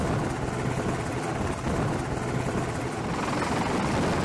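A US military helicopter thunders steadily overhead in a sea setting, its dense rotor and engine roar loud and continuous with no voices.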